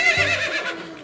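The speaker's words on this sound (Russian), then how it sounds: "Это же лошадь!" A cartoon horse gives one short, loud, shrill whinny that rises and then trails off.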